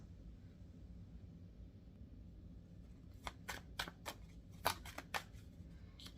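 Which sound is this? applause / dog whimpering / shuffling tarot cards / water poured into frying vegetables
shuffling tarot cards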